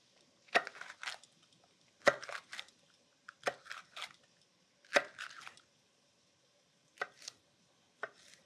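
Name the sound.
knife slicing and dicing food on a cutting board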